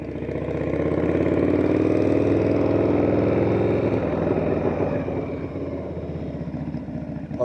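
A motorcycle engine idles steadily and close, running lean on its carburettor with too much air and too little fuel, a continuous droning rumble that eases slightly toward the end.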